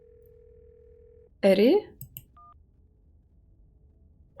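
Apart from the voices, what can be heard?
telephone dial tone and dialing in a video game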